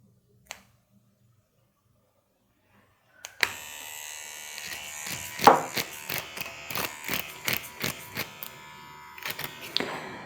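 Defenderr Vector wireless permanent makeup and tattoo machine running with a 3 mm needle stroke at 5.5 volts; after near silence and a couple of clicks, a close, steady buzzing hum starts and continues with small rhythmic pulses, no talk.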